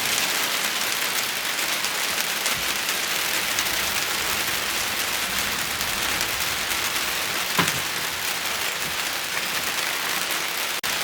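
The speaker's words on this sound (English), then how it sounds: "It just started to rain." Rain just starting to fall in rural Colombia, a dense continuous hiss of drops on surfaces, steady and fairly loud throughout with no voices.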